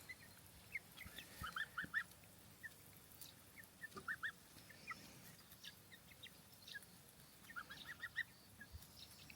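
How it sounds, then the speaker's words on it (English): A female goose kept as a companion to chickens gives short, high honking calls in small bursts, spaced out across a quiet outdoor background at moderate distance. "This goose will be around as a companion to all chickens."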